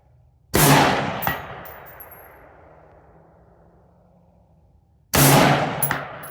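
A rifle fires twice at a small steel gong target on a distance shooting range. Each shot brings a sharp crack and a bright metallic clang that rings out and slowly fades, the second hit arriving about four and a half seconds later.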